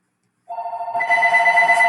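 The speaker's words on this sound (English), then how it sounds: "Oh, my phone's ringing." A mobile phone rings with a bright, repeating electronic ringtone that starts suddenly and grows fuller, close and loud, with no talk over it.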